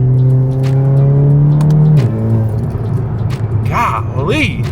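A hybrid-turbo MK7 GTI of about 450 horsepower is driven before a winter storm. Its engine holds a loud, steady drone for about two seconds, then drops away, leaving rougher rumble and road noise with a voice over it.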